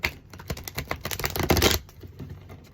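Tarot cards shuffled by hand, a rapid, continuous run of crisp riffling flicks and taps, close and loud, with no talk over it.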